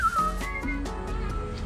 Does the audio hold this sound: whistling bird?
yes